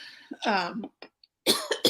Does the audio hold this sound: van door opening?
no